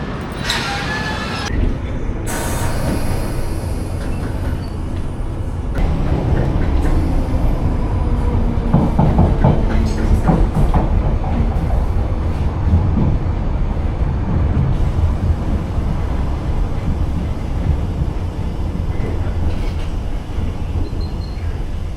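A London Underground Piccadilly Line train runs between Terminal 5 and Northfields, a loud steady rumble of wheels and motors with rattles, clicks and brief squeals, continuous from the cab with no talking.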